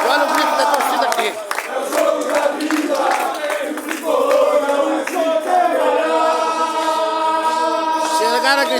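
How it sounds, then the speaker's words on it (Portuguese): Passo Fundo football supporters shout and chant in protest at the stadium exit, a dense, loud crowd roar with rhythmic calls and some clapping, continuous throughout. "A torcida do Passo Fundo fazendo protesto aqui na saída do estádio. Olha o grito da torcida aqui."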